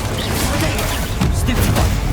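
Spell cast in Hogwarts Legacy, the fire spell Incendio erupting as a loud, dense whooshing burst that holds steady and swells slightly midway, close and filling the short moment without speech.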